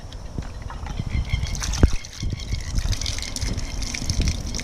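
Water gushes and sloshes as it is poured into a toy mud pit with monster trucks, an uneven splashing stream with small knocks and trickles, close and moderately loud.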